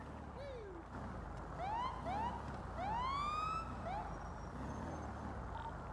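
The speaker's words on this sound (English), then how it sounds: "Siren check." In GTA V, a police car siren gives a few quick rising and falling whoops and yelps in a brief check. It sounds moderately distant over steady background noise and the hum of a game engine.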